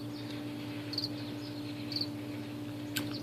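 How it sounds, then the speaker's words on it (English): Male locust stridulating with its wings, giving a steady cricket-like chirr with faint high bursts near one, two and three seconds, set over a constant low hum. "he's using his his wings actually to produce that cricket noise"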